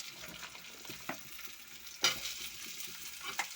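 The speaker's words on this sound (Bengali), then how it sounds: "লবণ দিয়া পেঁয়াজ হালকা লাল হইয়ালে আমি পিঠা দিলাম" Pitha frying with onions in a pan, a soft steady sizzle with a few stirring scrapes and clinks, close and fairly quiet, with no talk.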